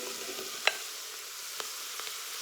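Zucchini sautéing in a pot for a keto zucchini soup, giving a soft, steady sizzle with a few sharp clicks and taps of a utensil against the pot, with no talk.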